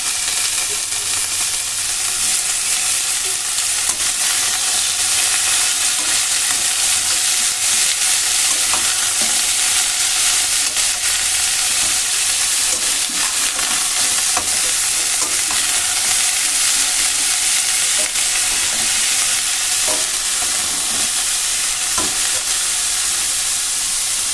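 Vegetables, including cabbage and tomatoes, hiss and sizzle steadily in a hot pan for a vegetarian Bengali dish, loud and close, with scraping stirs breaking through the constant frying noise.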